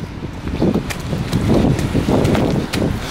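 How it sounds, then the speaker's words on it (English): Gusty wind buffets an outdoor microphone near a football ground on a visit to a match, rising and falling in broad rushing bursts with faint rustling, loud and close throughout. "It's a bit windy, isn't it?"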